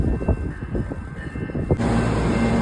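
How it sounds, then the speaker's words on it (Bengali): A train pulls into a station across the platforms, a low rumbling roar with clattering wheels and rising steady noise in the second half, heard from a moderate distance without speech. "দেখুন ওই পারে ঘন্টা যেয়ে একটা ট্রেন ঢুকছে"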